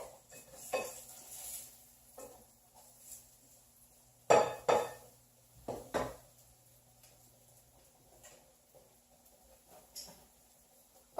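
Quinoa cakes flipped in a pan on a stovetop: a few sharp clinks and scrapes of a utensil against the pan, sparse and close, separated by quiet gaps, with no talk.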